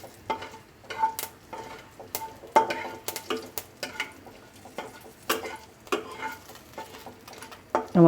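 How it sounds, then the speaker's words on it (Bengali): Half a spoon of five-spice seeds fries in oil with a soft crackle, joined by frequent clinks and scrapes of a spoon against the pan before a louder clatter at the close. "আমার ফোড়নটা ভাজা হয়ে গেছে"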